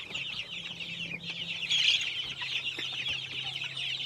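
Meat-type chickens on a farm cluck and chatter over a low steady hum, a busy flock heard close and at moderate level for the whole stretch.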